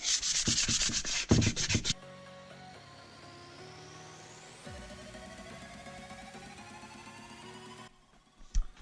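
Hand sanding on a motorcycle exhaust pipe, with a burst of loud, rapid rubbing strokes at the start, then a quieter stretch of steady background noise and a few faint knocks near the end.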